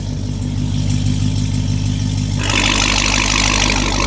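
A Dodge Hellcat with a titanium exhaust, valves closed, idles in a close, deep, steady rumble that swells into a fuller, harsher roar for the last couple of seconds.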